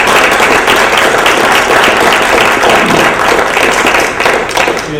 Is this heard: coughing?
no